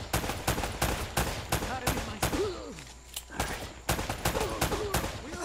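Rapid, steady gunfire in Uncharted: Drake's Fortune on hardcore mode, loud bursts of shots in a constant rhythm, with a voice shouting over it.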